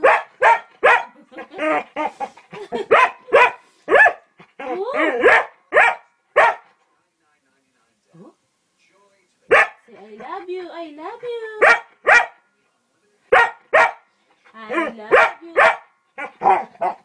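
A puppy yips and barks in quick, sharp bursts, some strung together in rapid runs and others alone, with whining, vocal sounds in between and a short quiet gap midway; close and loud, with a person talking intermittently.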